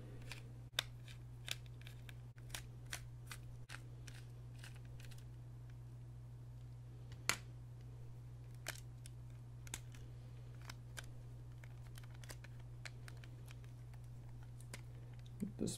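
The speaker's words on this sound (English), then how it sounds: "let's take out these screws" Small screws being removed from a XIM Nexus game controller: faint scattered clicks and ticks of a screwdriver and plastic parts, close and quiet over a steady low hum.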